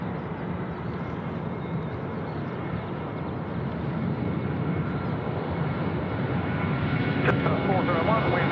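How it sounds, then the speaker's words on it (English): A Velocity Boeing 737-800 taking off from runway 34 right at Sydney Airport, its jet engines a broad, steady roar that builds slightly as it rolls, with a voice talking over it. "This is Velocity 1528 off to Hobart, the 737-800. Now rolling."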